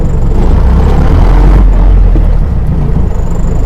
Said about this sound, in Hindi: अब आपको आवाज़ से ही पता लग जाएगा कि दिस इज़ 4 व्हील ड्राइव।